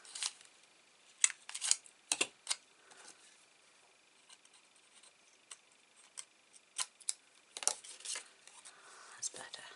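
Scissors snipping through patterned paper for a triple flip gift box, a few sharp close cuts spread out among quiet rustling.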